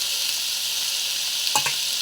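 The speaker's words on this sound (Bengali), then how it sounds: "তো এগুলো দিয়ে আবার ভালো করে আপনাকে নেড়ে চেড়ে নিতে হবে।" Gima greens with turmeric and salt stirred in a frying pan, a steady close sizzle with a brief scrape of the spatula near the end.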